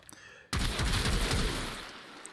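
An arm cannon weapon fires in the game Warframe, working like an automatic shotgun: after a brief quiet start comes a sudden loud burst of gunfire, sustained and rumbling for about two seconds, then fading slightly.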